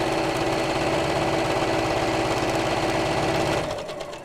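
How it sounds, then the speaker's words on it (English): Sewing machine stitching down the side of a drawstring box bag, a steady fast mechanical whir with rhythmic needle pulses running loud and continuous before slowing and stopping near the end. "So let's reverse at the top and stitch all the way down."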